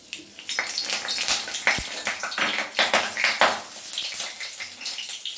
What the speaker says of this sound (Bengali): তেলটা গরম হয়ে গেছে, এবার আমি ফোড়নের জন্য যা যা রেখেছিলাম সেগুলো দিয়ে দিচ্ছি এক এক করে। প্রথমে দেব তেজপাতা